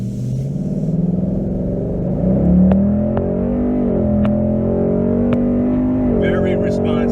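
A Whipple supercharged 2018 Mustang GT accelerates with a deep, steady exhaust drone rising gradually in pitch, heard from inside the car with a few sharp clicks over the engine and people talking.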